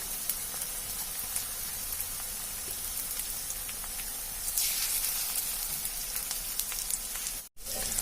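Boiled-potato pakoras fry in hot oil with a dense, continuous sizzle like pattering rain, close and steady, briefly cutting out for a moment near the end.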